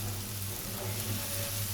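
Garlic frying in a pan gives a steady, soft sizzle, an even crackling hiss that holds without a break.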